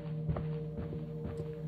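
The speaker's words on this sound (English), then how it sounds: "Just the atmospheric noises I enjoy, as well as the stomping." Heavy stomping footsteps in a horror-style video game thud at an uneven pace over a steady low ambient drone, each step a dull, close impact.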